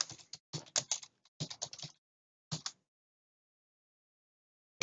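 Bursts of close computer keyboard typing, clusters of quick clicks separated by pauses, then a long silence before a final short burst.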